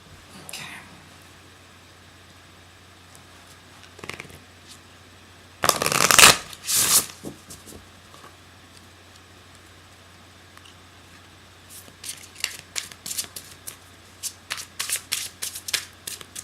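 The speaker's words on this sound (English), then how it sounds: "have to lean over so far so you can see the shuffling" Tarot deck being shuffled by hand: a loud riffling burst in the middle, then a string of quieter flicks and taps as cards are cut and slid, with faint speech in a quiet room.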